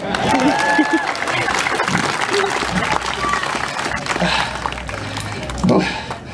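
Spectators clap at a county fair alligator show, scattered moderate applause mixed with crowd murmur and voices nearby.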